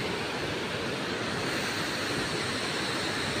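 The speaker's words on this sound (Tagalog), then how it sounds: "May falls na maliit dun. Maagos." A small waterfall in rocky mountain terrain rushes fast and steadily, a continuous loud wash of white noise with no pauses.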